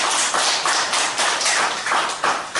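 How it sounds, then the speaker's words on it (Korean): A church congregation applauds together, a steady mass of dense clapping with rhythmic surges, loud and close, with no voices over it. "박수 한번 쳐드리세요."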